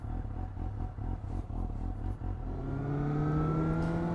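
Suzuki GSX-S 750 motorcycle with a Leo Vince exhaust accelerating, a loud close engine roar rising steadily in pitch through the revs with wind noise underneath.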